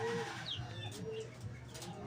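A racing pigeon, the fourth bird back from a training race in Abuyog, Leyte, coos softly at the loft amid faint birdsong and low outdoor background noise.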